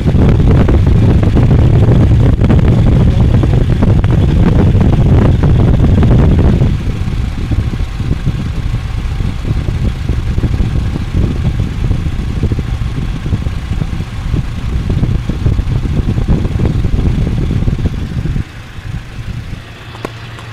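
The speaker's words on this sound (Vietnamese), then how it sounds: "Và đây là cái tiếng động cơ đang hoạt động nhé." A 2012 Toyota Fortuner petrol engine with automatic transmission runs steadily nearby with a low, rumbling drone, slightly muffled by wind buffeting the microphone, settling to a quieter idle partway through.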